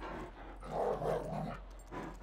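A dog in GTA 5 growls low and continuously for a couple of seconds, with a rougher swell in the middle, rendered like game audio with a steady hum underneath.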